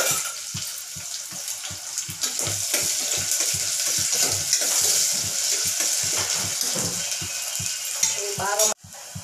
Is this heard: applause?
no